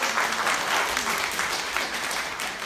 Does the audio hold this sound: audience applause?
yes